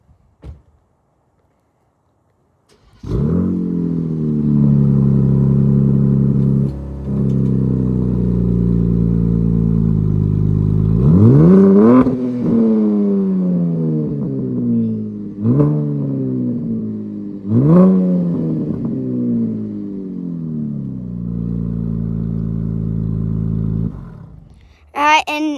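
A car engine idles, then revs repeatedly in several sharp rising bursts that fall back, loud and close, with no talking; a short clunk opens the sequence and another sound closes it.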